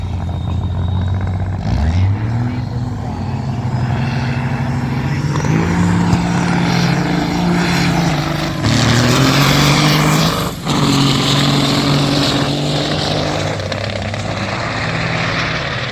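A 1957 Kenworth diesel semi drag racing at a dragstrip, loud sustained engine roar with rising gear-shift pitch sweeps, another truck alongside, continuous heavy rumble throughout.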